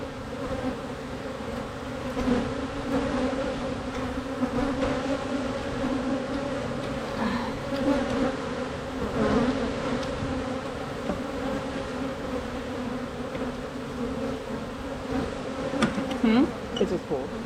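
Honey bees hum in a steady, dense buzz close by while a weekly hive inspection goes on, the drone holding even throughout with a few louder swells near the end.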